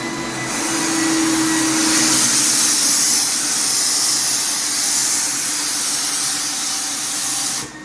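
A Titan Cap Spray 115 HVLP sprayer lays down a first coat of paint, giving a loud, steady airy hiss that runs nearly unbroken from start to finish before cutting off at the end.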